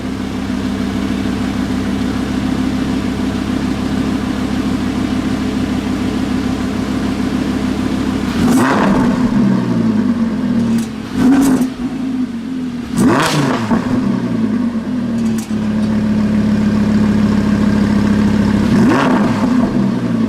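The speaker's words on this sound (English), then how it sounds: "The exhaust here is the Sport option." 2016 Lamborghini Huracan LP610-4 with Sport exhaust idling with a low burble, then several sharp revs that bark louder and crackle, settling back to idle between bursts; valves closed then open.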